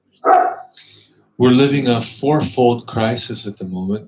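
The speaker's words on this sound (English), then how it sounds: "that's our dog" A dog gives a single short bark near the start, then someone speaks steadily over a quiet room.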